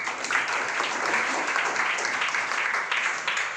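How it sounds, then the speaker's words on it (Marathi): A crowd at a career guidance workshop run by Masoom applauds, giving a dense, steady burst of clapping that lasts several seconds. "मासूमसाठी इथं टाळ्या वाजवा"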